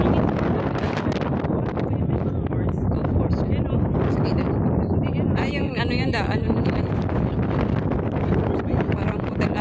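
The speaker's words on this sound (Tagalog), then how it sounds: "Lakas ang hangin, sorry" Strong wind buffets the microphone on a coastal hiking trail at Dragon's Back, Hong Kong, a loud continuous roar throughout, with people talking and exclaiming over it.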